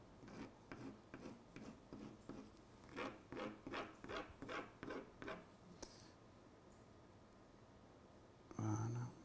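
A tool scrapes and sculpts Pébéo Artist sandy mortar paste in a series of rhythmic gritty rubbing strokes, quiet and close, with a pause before a short final scrape.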